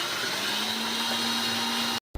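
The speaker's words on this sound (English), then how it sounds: "Isn't that a nice blender" A kitchen blender runs steadily with a loud, even whirring hum and a constant motor tone, then cuts out abruptly near the end before a brief sound returns.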